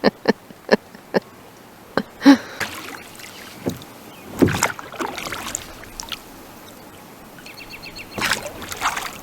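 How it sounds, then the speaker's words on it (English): Oars dip and pull through lake water from a small boat while out fishing for bull trout, with a run of sharp, evenly spaced splashes and knocks early on and then scattered louder strokes amid soft ripples and occasional bird calls. "Rowing, rowing, rowing."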